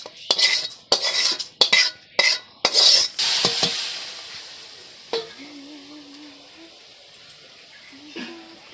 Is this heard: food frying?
yes